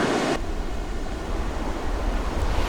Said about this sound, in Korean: 이곳의 해변은 태평양으로부터 끊임없이 밀려오는 파도를 온몸으로 받아냅니다